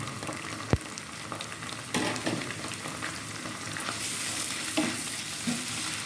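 Chicken with new potatoes frying in a pan with garlic, ginger, cumin and nut pastes, turmeric, chilli powder and salt gives a close, steady sizzle, broken by a sharp utensil knock and scraping stirs.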